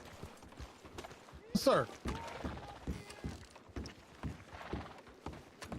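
A horse in a roleplay video game clip-clops along with steady hoofbeats and a brief whinny, heard under people talking.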